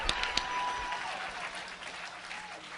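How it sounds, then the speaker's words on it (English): An audience at a motivational talk claps, producing a steady wash of applause with a few sharp nearby claps at the start, moderately quiet and continuous. "You might as well clap your hands"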